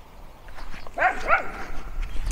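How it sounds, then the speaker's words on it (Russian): Dogs give two quick, close-together barks at moderate distance over a low background rumble, with no talking. "Так, собаки"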